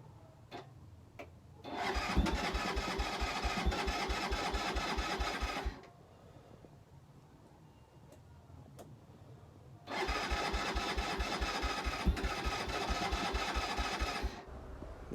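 A Keeway 125cc motorbike with Suzuki parts is cranked in two long bursts. Each attempt gives a rapid rhythmic spluttering churn without catching, with quiet pauses around them.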